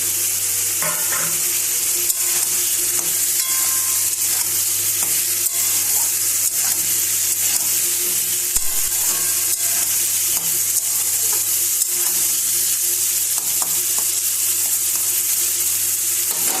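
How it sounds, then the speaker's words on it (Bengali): Peas and cauliflower stalks sizzle steadily in a pan over a low gas flame, covered with a lid, giving a loud, even frying hiss throughout with faint scattered clicks and no talking. "গ্যাসের আগুনটা কম করে ঢাকনা চাপা দিয়ে খানিকক্ষণ ভাজবো, তাহলে সবজিগুলো ভালো নরম হবে"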